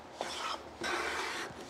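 Hand plane strokes trimming a wooden tenon shoulder on a shooting board, two short close scraping swishes, the second longer and fuller, over a quiet shop background.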